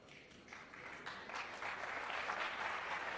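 A knowledgeable crowd applauds at a World Pool League match, steady clapping that swells and holds for a few seconds, heard from a short distance.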